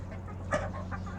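Laying hens in a backyard flock give a single short cluck over a steady low background hum, fairly faint and brief, with no talk.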